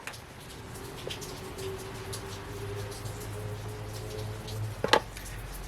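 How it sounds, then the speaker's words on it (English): Steady rain falls outdoors, a soft even hiss with scattered drips and a low hum beneath, and a sharp knock or click near the end. "I love the rain."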